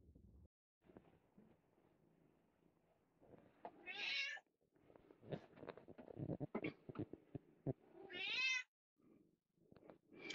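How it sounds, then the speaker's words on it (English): A cat meows loudly twice, long drawn-out cries a few seconds apart, with rustling and handling noises in between. "my cat Gandhi is in here and wanting attention, so if you hear him"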